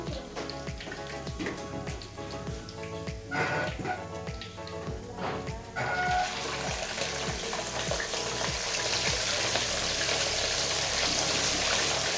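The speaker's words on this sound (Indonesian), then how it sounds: "Kita goreng lagi ikan yang lainnya sobat." Mackerel fish sizzles as it fries in hot oil, a quiet crackling hiss that swells into a denser, steadier sizzle partway through, with no talking.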